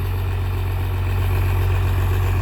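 A heavy diesel excavator engine driving a water pump idles steadily at close range, a constant low rumbling drone with no talking.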